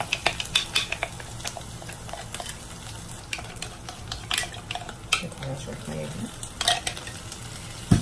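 Garlic fries in a pan with a lively sizzle, while a spoon stirs, scrapes and clinks against the metal at close range in a home kitchen.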